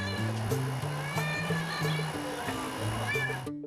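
A mother cat named Marong calls to her kittens from a sheltered spot under a roof, her repeated meows rising and falling close by, mixed with a low hum and human voices talking underneath.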